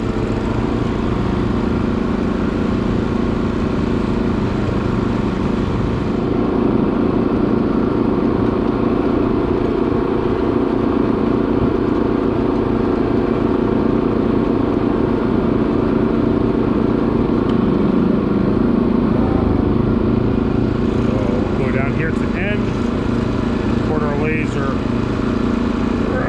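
Engine of a Graco line striper running steadily as the machine drives into a parking lot, a loud constant drone with no voices heard over it.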